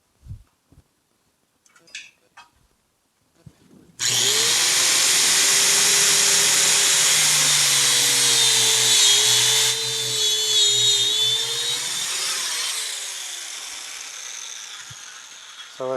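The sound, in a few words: mini grinder cutting braided AN-6 line held in vise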